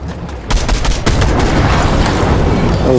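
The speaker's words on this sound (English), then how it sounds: "someone's shooting at me" Gunfire erupts in Fortnite after a brief quiet lead-in, sharp rapid shots blending into a loud, dense barrage that continues to the end.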